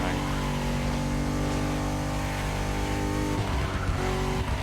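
Drift car racing in The Crew Motorfest on a rainy track, a steady loud engine drone with sustained revving tones and tire noise that drops and shifts near the end.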